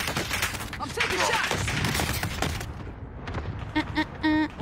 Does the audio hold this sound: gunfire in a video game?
yes